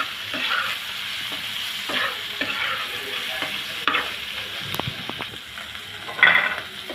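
Small mola fish stir-fried with onions in a pan, a steady close sizzle and crackle with intermittent scraping stir strokes and a few light utensil taps.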